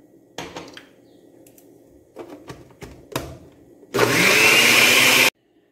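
A countertop blender grinds dried chiles de árbol with garlic, salt and a splash of water, a loud, steady whirring roar held for over a second after some nearby clatter and knocks of ingredients going into the jar.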